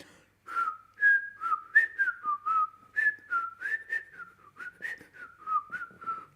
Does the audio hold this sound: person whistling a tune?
yes